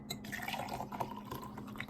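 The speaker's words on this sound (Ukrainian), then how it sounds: "в другу кладемо металевий предмет у склянку та заливаємо гарячу воду" Hot water is poured into a glass holding a metal object, giving a close, soft splashing and trickling over a steady low hum of the room.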